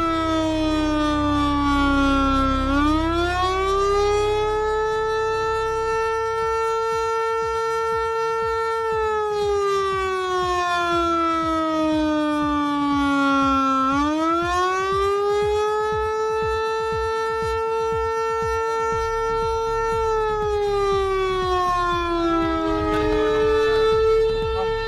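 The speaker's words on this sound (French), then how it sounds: "nous entrons dans les premières rues au son des sirènes hurlantes" Loud wailing tornado warning sirens rising and falling in long, slow sweeps through city streets, sustained throughout over a low rumbling background.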